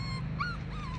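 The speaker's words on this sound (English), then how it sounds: "Very, very lively, very happy little corgi pup." A corgi puppy whimpers close by in a short burst of high, wavering whines over a steady low hum, with no talking.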